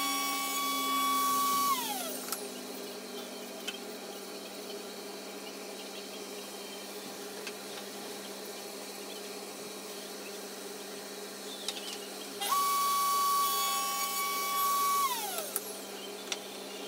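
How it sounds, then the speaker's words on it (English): A router fitted with a half-inch spiral bit cutting channels in wood for a shallow wall cabinet, a steady high-pitched motor whine with two louder bursts as the bit spins up and winds down. "I was using a half inch spiral bit to cut these channels"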